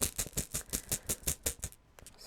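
Chakra stones shuffled around inside a container give a quick series of about ten sharp rattling clicks in an even rhythm, close and fairly loud, before stopping abruptly.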